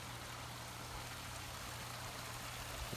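Water flowing steadily in a desert backyard feature, a continuous close, even rushing and trickling wash with no voices.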